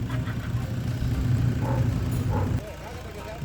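A Toyota D4D turbo diesel with a smoking, low-power fault runs steadily up close, a thick low rumble with a faint turbo whine. Its loudness drops noticeably near the end.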